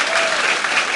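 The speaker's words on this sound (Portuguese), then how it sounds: "gostaríamos de encerrar o dia com um aplauso realmente sentido" A brief, dense burst of heartfelt audience applause at the close of a lecture event, loud and continuous throughout.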